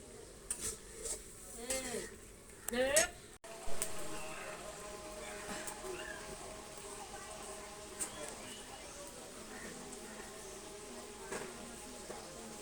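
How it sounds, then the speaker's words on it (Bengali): Potatoes and tomatoes sautéing in a pan for a tengra fish curry, with soft sizzling and a few stirring and utensil clinks near the start, then steady low frying under light background sound. "আলু টমেটো এগুলো কিছুক্ষণ কষিয়ে আসলো"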